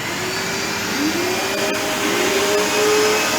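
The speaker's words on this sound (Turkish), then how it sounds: "3 motoru çalıştırdık ve bakın şu an emişe başladı." Three motors of an industrial cyclone vacuum cleaner with cartridge filter and hopper run together, giving a loud, steady whine with faint shifting tones and no talk.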